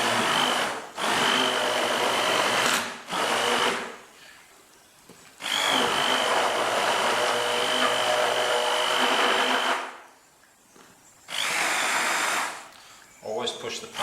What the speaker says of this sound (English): The preferred tool that we use is the stick blender, the one with the little blade at the bottom